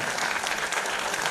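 Dense, loud applause from an audience at an award ceremony, continuous clapping that fills the whole brief moment.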